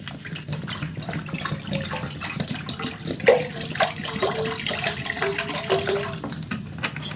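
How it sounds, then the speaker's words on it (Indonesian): Water poured into a cooking pot for a Sabah dish of oil palm shoot with mangrove snails, a steady close splashing trickle running throughout without speech. "Pertama kita masukkan air dulu."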